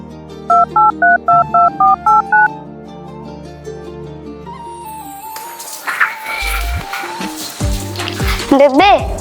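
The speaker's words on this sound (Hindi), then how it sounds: "बेबे बापू का फोन आया है।" Incoming phone call signalled by telephone tones, eight evenly spaced short beeps in a row, followed by a softer stretch with noisy background sounds and a voice speaking.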